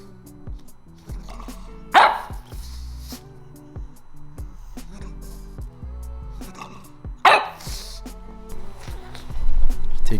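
A pet pug barking in short, sharp bursts across a busy indoor scene, with two louder yaps standing out and clattering, thumping noises around it.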